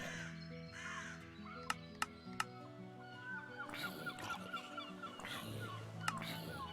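A rooster in a Minecraft-style survival game crows loudly, with caws and fowl calls repeating over background game music and sharp clicks. There is no talking.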